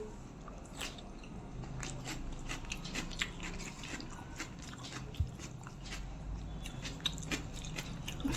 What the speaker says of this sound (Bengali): স্যালাড খাই।